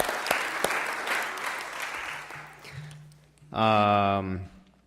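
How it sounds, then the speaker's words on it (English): An audience at a synagogue annual meeting applauds for a few seconds, the clapping fading out before a voice begins speaking. "Let's just give them one more big round of applause for their 2 years of service."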